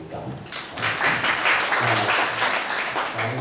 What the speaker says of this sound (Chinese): 大家请鼓掌